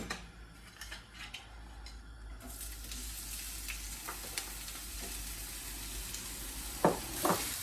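Onions and garlic fry in a pan with a steady, close sizzle, joined near the end by a couple of sharp utensil knocks against the pan.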